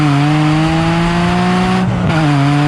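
A Ferrari 550 V12 with a manual transmission drones loudly and steadily nearby, its tone holding near constant with a brief dip and shift in pitch before settling again.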